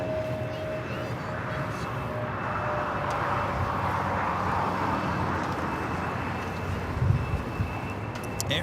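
Frontier Airbus A321neo airliner taking off, a steady broadband jet roar at moderate distance that holds evenly throughout with a faint tonal whine, no voices over it.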